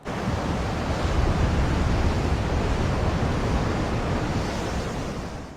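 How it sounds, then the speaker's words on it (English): Rough sea waves crash continuously in a steady, loud wash of surf that holds without pause throughout. "The rough sound of the waves crashing definitely added to the intensity"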